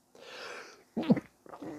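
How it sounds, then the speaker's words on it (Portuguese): A single sharp sneeze bursts out close by, with bits of voice before and after it. "Desculpa, gente, espirro."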